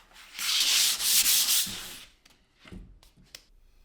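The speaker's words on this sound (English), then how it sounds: "Now we just need to lightly sand this" Sandpaper rubs lightly across a coated art panel in a quick burst of rapid scratchy strokes, close and crisp, followed by a few softer scattered scuffs and taps.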